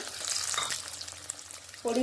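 Chopped garlic added to hot oil with cumin and fenugreek for a fish curry, a steady close sizzle and hiss with a few stirring scrapes, rising to a sharper burst at the end.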